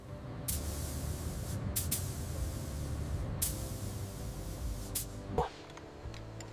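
Primer sprayed onto a restored Ferrari body, a steady hissing spray running continuously with several brief louder bursts, ending with a sharp knock and a lower hum.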